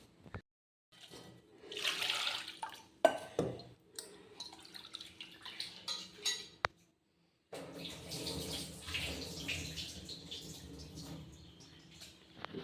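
Water splashes and sloshes in bursts as flattened rice is rinsed and swirled in a bowl, with quiet pauses and a few clinks between.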